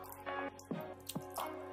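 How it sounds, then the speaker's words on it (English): Water is poured and dripped onto a Moto G5 Plus smartphone, giving a few wet splashes and squishy drips up close, separated by short pauses. "Pour some more water."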